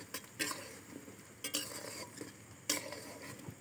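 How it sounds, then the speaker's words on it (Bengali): Garlic fries in a pan for garlic pickle, a quiet sizzle broken by intermittent scraping stirs of a utensil against the pan. "রসুনগুলো দিয়ে দেবো, আর অল্প আজে জাল দেবো।"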